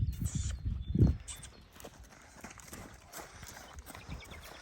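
Hooves of a young Carpathian colt clip-clop on the ground nearby, a few irregular thuds strongest near the start, with faint voices in the background.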